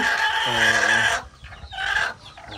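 Farm chickens cluck loudly and close by in drawn-out, throaty calls, then pause briefly before another clucking burst.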